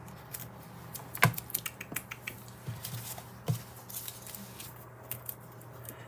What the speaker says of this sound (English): so get your scissors out, Phil.